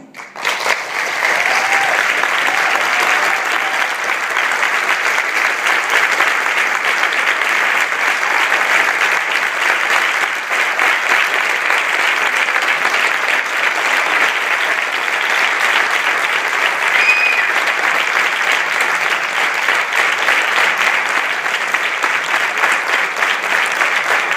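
Sustained audience applause at a youth parliament session, dense and loud, with many hands clapping evenly from start to finish and no break in the sound.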